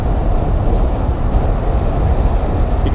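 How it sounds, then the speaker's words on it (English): Big ocean waves breaking on a beach with a strong riptide, a steady, dense roar of surf mixed with wind buffeting the microphone, continuous and close for the whole stretch. "I bring him down to the place that has the biggest waves"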